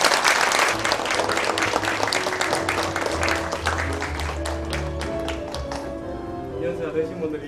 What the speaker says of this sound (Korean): 여러분 박수로 함께 해주십시오.